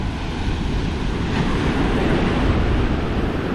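Steady wind and surf roar along the windy Sosua–Cabarete coast of the Dominican Republic, a kite- and windsurfing spot, forming a continuous broadband wash with no voices.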